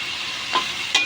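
Miki guisado ingredients sautéing in a pan over a turned-up stove, a steady close sizzle with two brief louder bursts of stirring, no voices.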